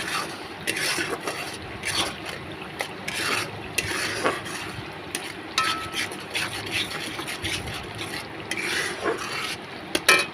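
Salt, turmeric, cumin, coriander and Kashmiri chili masala frying in a pan, stirred with repeated scraping and rubbing strokes of a spoon against the metal, steady and close.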